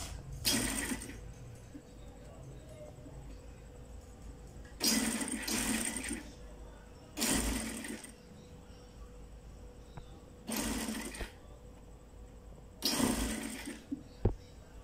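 A sewing machine stitches piping onto a neckline in five short separate bursts, each lasting about a second, with quiet pauses between runs and a steady close mechanical whir.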